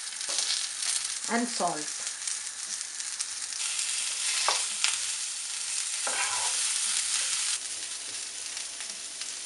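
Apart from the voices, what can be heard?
cauliflower florets frying lightly in a pan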